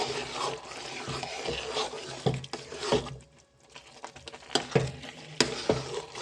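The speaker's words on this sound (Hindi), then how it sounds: "अब हमने इसकी भुनाई करनी है, अच्छे से फ्राई करना है इसे, ताकि जो इसके अंदर पानी है वो सारा ड्राई हो जाए।" Grated carrots for carrot halwa fry in a pan while being stirred, giving a soft sizzle broken by repeated scraping strokes of the spoon, close and fairly quiet.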